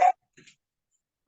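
Small dachshunds give one sharp, close yip-like bark, followed after a pause by a softer, faint bark and the start of another at the end, with silence in between.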